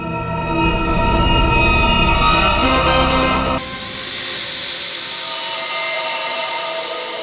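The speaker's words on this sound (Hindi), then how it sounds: "तू आया कहाँ से ड्रोन?" A drone flies close by with a loud, steady high-pitched buzzing whine, joined by other sounds in the first half and then continuing alone as a broad hiss-like drone.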